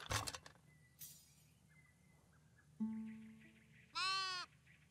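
Sheep in the video game Tiny Glade give two clear bleats, a shorter one followed by a louder, wavering one, against a quiet ambient background with faint bird-like chirps.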